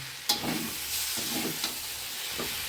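Mango pulp with chopped unripe jackfruit, mango and sugar sizzles and stirs in a pan, a soft steady frying hiss with a few spatula scrapes and taps, close and alone.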